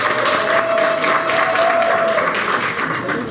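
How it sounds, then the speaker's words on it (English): An audience at a Liberal Democrat politician's speech applauds in a steady, dense wash of clapping that stays loud and even, with a faint voice and a thin tone running underneath. "which I don't always get applause when I say I'm a Liberal Democrat"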